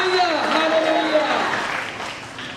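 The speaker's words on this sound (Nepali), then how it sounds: "फेरि एकपल्ट जोरदार ताली बजाएर हामी परमेश्वरलाई धन्यवाद गर्छौँ" Applause from a congregation at a prayer house in Delhi, a steady dense clatter of many hands that stays loud through the clip and slowly tapers. A voice speaks over it.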